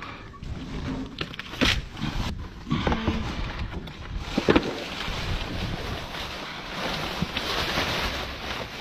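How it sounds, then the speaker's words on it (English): A squall of wind blows outdoors, buffeting the microphone in rough, gusting rushes that rise and fall, with loud bursts and a constant windy roar. "What a squall"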